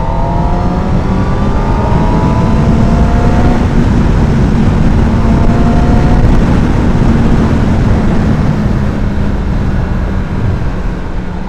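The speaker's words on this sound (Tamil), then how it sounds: "ஆக்சுவலாக நான் வந்து இப்போ முறுக்கின ரீசன் வந்து ஸ்பீடு செக் பண்ணுறதுக்காக, அந்த சவுண்ட் கேட்கறதுக்காக" Superbike engine revved hard with no gear engaged: a loud, close, continuous roar that holds high and steady, its pitch rising slightly and easing back with throttle changes.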